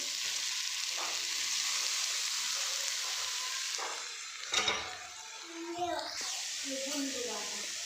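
Grated carrot hits hot ghee with dry fruits in a pan for gajar halwa, giving a steady loud sizzling hiss with stirring scrapes, and someone talks over it.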